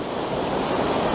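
Water pours steadily over a waterfall or overflow at the edge of a three-step aqueduct on the Leeds to Liverpool Canal, a continuous broad rushing roar with no breaks.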